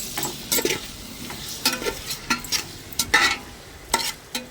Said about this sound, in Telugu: ఒకసారి కలుపుకోండి